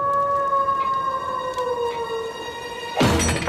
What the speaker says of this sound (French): C'est ce satané loup!